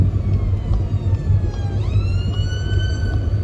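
Ambulance siren heard from a car on a road near a roundabout, a steady wailing tone sliding in pitch over continuous road and engine rumble.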